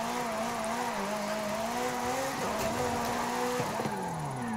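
A Ferrari driven in Forza Horizon 5 holds a steady, loud engine tone with smooth gear-like pitch sweeps and a brief dip near the end, continuous throughout.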